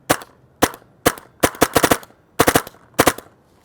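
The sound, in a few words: paintball marker with Techt Cyclone loader firing shots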